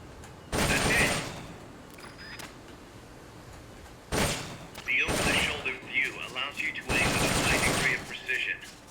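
M16 assault rifle fire in Metal Gear Solid: Peace Walker, heard as loud rapid bursts separated by pauses, with mechanical clicks and rattles in between.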